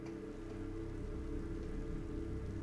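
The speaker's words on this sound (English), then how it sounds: "Unless you can find protection from the acid rain." Acid rain in the video game Metroid Prime 3: Corruption, a steady hiss of falling rain with a low rumbling ambience, constant and moderately loud throughout with no speech.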